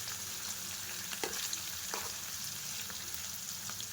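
Half-boiled prawns deep fry in hot oil, giving a constant bubbling sizzle with occasional pops and light stirring knocks, moderately close and steady throughout.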